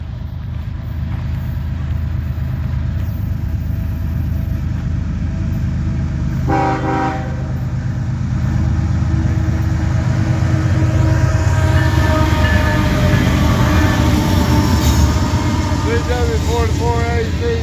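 A tank train led by an ES40AC locomotive rumbles steadily past at close range, a continuous loud roar of wheels and wagons with a brief horn blast, while someone talks over it.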